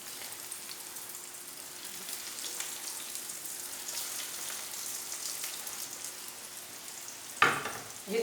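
Potato kababs (aloo tikki) frying in hot oil over low heat, a soft even hiss of bubbling oil held steady throughout, broken near the end by a brief louder clatter close by.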